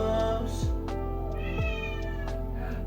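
A cat meows a couple of times, close by, over a steady background of soft music.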